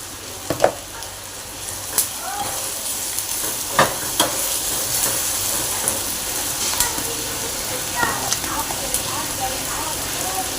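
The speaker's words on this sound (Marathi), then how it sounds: "मसाला असा एकसारखा चांगला भाजून घ्यायचा आहे।" Spiced onion-garlic masala dry-roasting in a pan, a steady close sizzle with intermittent scraping clicks of a spoon stirring, under faint background talk.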